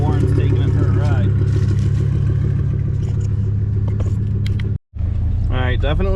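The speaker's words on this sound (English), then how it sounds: "definitely sounds like it's got a little throaty or idle" A Ford F250 Super Duty pickup idles with a deep, throaty rumble, steady and close, under ongoing talk, with a brief dropout near the end.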